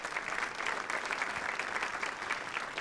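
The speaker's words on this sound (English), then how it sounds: "We'll give her a round of applause." An audience at a Buffalo broadcasters hall of fame presentation gives Helen a round of applause, a steady, moderately loud wash of clapping filling the whole moment.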